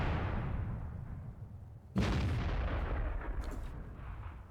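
An artillery gun fires a single loud, booming shot in a World of Tanks battle, cutting sharply through a rumbling background and trailing off into a long reverberating roll.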